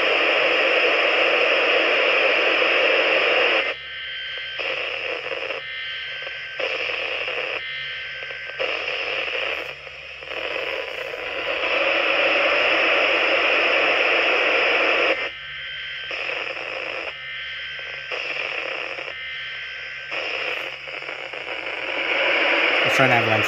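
A Reecom R1650 weather radio receives EAS alert tones. Harsh, buzzy data bursts pulse on and off in repeated groups, loud and close, separated by brief gaps of quieter hiss.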